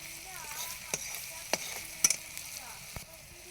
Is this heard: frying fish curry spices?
yes